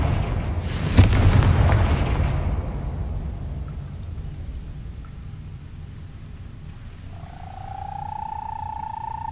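A Confringo spell blast goes off in the video game Hogwarts Legacy, a sudden booming explosion with a rumbling, crackling tail that fades, then a rising tonal hum.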